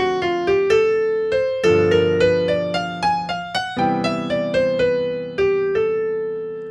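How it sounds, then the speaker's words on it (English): Solo piano playing a quick bebop-style jazz line using approach notes, single notes and chords moving chromatically, each note decaying before the next, with no voices. "now obviously you can hear when I'm using my approach notes"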